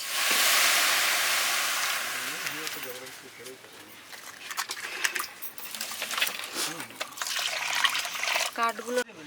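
Fried lentils being washed with water in a pot at a picnic cookout: a strong rushing splash at first, then lighter sloshing and trickling while someone talks nearby.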